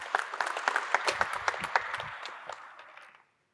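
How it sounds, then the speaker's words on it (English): A small audience claps with distinct, scattered hand claps that gradually thin out and stop after about three seconds. "can we have a round of applause for them?"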